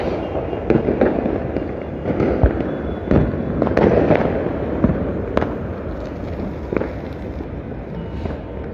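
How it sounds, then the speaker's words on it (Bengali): Fireworks burst over Dhaka on New Year's Eve: a dense, continuous barrage of sharp pops and crackling bangs, some near and loud, others distant. "সকল ধরনের নিষেধাজ্ঞা এবং নজরদারি উপেক্ষা করে রাজধানীতে কিন্তু আতসবাজি এবং ফানুস উড়ানো হচ্ছে"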